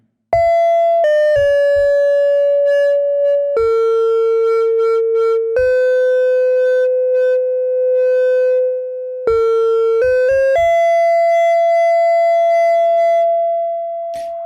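Lead melody from a Mutable Instruments Plaits synthesizer module with a mistake in it: clean, pure sustained tones stepping between a few pitches with short plucky attacks, loud and alone.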